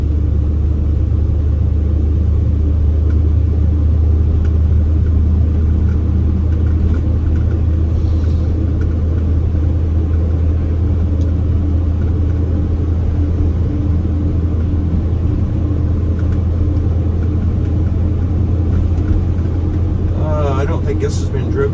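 A 1959 Chevy Apache J10 truck cruising on a highway gives a steady, loud low-frequency road and engine rumble that holds constant throughout, with no clear speech over it.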